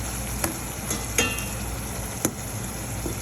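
Tomato, onion and garlic fry in a pan with a steady low sizzle, broken by a few brief clinks of a utensil stirring against the pan.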